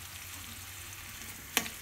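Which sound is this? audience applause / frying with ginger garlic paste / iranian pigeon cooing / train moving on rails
frying with ginger garlic paste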